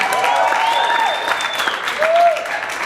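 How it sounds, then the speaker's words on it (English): Audience at a stand-up comedy show clapping briefly, with whistle-like tonal sweeps and a voice over the applause. The burst is short and fairly loud. "Shouldn't clap though."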